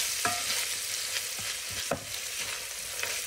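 Sweet Italian sausage frying in a pot for Zuppa Toscana, a steady close sizzle broken by several sharp scrapes and knocks of a spoon stirring the meat, with no voices.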